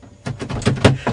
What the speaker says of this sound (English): I'm trying to unlock it, man